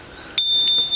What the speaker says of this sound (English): And a really cool bell.